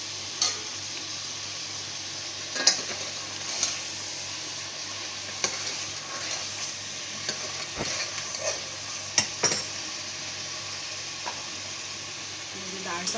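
Chicken and masala frying and being stirred in a pan for qorma, a steady low sizzle with scattered scrapes and clinks of the spoon, fairly faint and close, with no talk.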